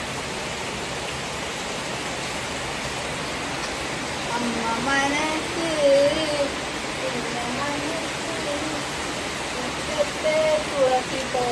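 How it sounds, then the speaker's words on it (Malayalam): Continuous hiss of heavy rain fills the background while a person speaks briefly over it. "നല്ല മഴയാട്ടോ ഇപ്പൊ മഴക്കാലം പോലെ ആയിട്ടുണ്ട്"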